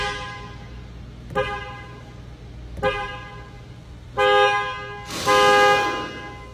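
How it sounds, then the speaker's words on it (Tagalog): A BYD Seal 5 car horn after a software update, sounding as two short taps followed by two longer honks, clear and close against a quiet idle background. "susubukan ko na kung nag-improve ba yung busina niya."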